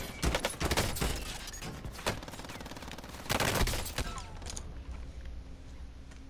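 M16 rifle fire in the video game Rebirth Island: sharp, loud shots in quick groups, then a short second volley, fading into quieter background afterward.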